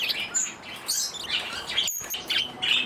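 Pet birds, including a lovebird, chirp and tweet in an outdoor aviary, with several overlapping high calls and faint wing flutters close by, no talking.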